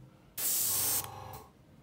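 An airbrush sprays Humbrol acrylic paint in a single loud, steady hiss of about half a second that cuts off sharply, leaving a softer trailing hiss of air.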